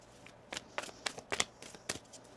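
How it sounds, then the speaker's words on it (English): A deck of tarot cards shuffled in several quick riffling bursts, close and crisp, with short pauses between them. "One more shuffle."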